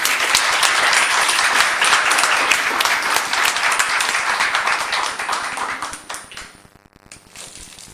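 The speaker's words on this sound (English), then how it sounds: "Let's give Scarlett a round of applause." Council meeting audience applauding after the Pledge of Allegiance, a dense, steady burst of many hands clapping that tapers off near the end, with no talk over it.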